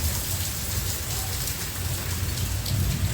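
Heavy rain with big drops coming down hard, a dense, loud, unbroken wash of pattering and splashing that holds steady from start to finish.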